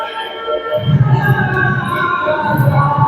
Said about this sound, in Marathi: भरपूर अशी गर्दी आहे.